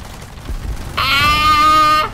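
Aircraft machine-gun fire in the War Thunder video game, a loud sustained burst with a steady rapid rhythm, lasting about a second after a brief lead-in of low rumble.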